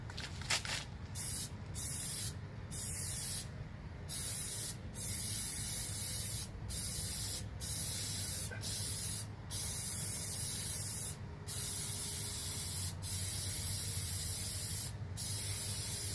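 Repeated bursts of spraying Windex glass cleaner, about a dozen short hisses in an irregular rhythm over a steady low hum, heard up close with no talking.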